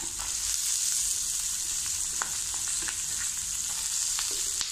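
Ginger, green chili, onion and garlic sautéing in oil for a cauliflower curry, a dense, steady, close sizzle with a few faint clicks of stirring scattered through.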